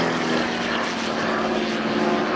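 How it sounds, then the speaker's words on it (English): A propeller-driven aerobatic aeroplane at Shoreham Airshow 2014 drones steadily overhead, its engine giving a continuous, buzzing roar with a faint harmonic whine. "So the aeroplane will eventually have to descend, possibly by a tail slide, and he's done a hammerhead stall."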